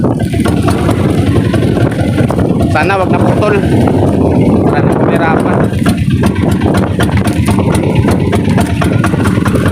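A lobster-fishing boat's engine runs steadily and loudly throughout, its low drone constant beneath a voice talking over it.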